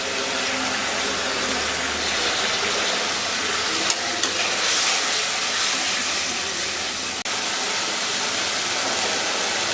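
Mustard paste, with dried chilli, tomato paste, ginger paste and turmeric, fries in hot oil for a tilapia curry, giving a loud, steady, close sizzling hiss throughout with a couple of small clicks and no talking.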